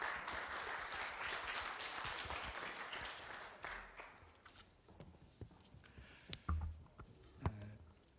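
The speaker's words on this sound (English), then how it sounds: "please welcome him with a big round of applause to the stage" A big round of audience applause welcomes a minister to the stage at a Korea–Indonesia CEPA signing ceremony, dense clapping that fades into scattered claps, footsteps and shuffling as the room settles.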